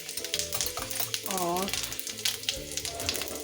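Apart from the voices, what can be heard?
tempering sizzle of fenugreek and cumin in hot oil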